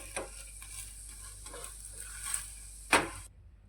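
A roti roasting on a hot pan gives a soft, steady sizzle with light scraping and handling noises, faint and close, ending in one sharper scrape before quiet.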